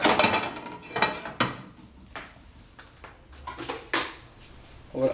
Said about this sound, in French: Vous mélangez l'œuf et le lait jusqu'à ce que ce soit un peu homogène.